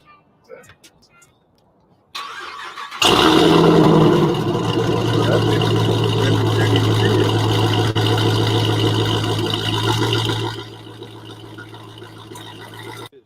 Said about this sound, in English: This car is loud as hell too.